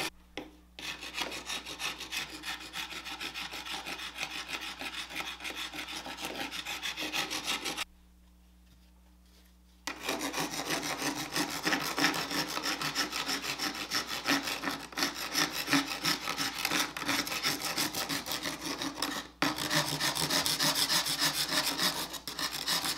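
A rasp files across the surface of a sculpture formed on an armature, giving steady, close, continuous scraping strokes that pause briefly midway and then resume without any talk.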